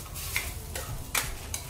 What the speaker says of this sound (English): And now I'll be adding in the ada to this. And nicely mix the ada well.